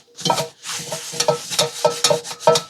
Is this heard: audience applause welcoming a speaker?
no